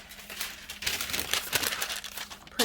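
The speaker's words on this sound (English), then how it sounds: "put down a piece of paper to protect my mat" A sheet of paper is handled and laid flat onto a Cricut cutting mat, giving soft rustles and crinkles in quick bursts, fairly quiet and close, with a sharper crinkle at the end.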